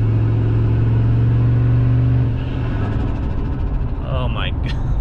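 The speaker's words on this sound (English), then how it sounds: "Oh my, listen to that blow off valve." A single-turbo Triton 5.4L truck running 12 PSI revs loudly, then the engine drops off and the turbo blow-off valve releases with a sharp, close chirping whoosh near the end.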